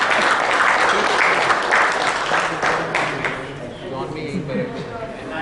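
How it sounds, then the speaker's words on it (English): Audience applause at the elets FIPS 2014 awards ceremony, a dense steady wash of clapping from a large crowd that fades slightly toward the end, with voices murmuring underneath. "a round of applause for that"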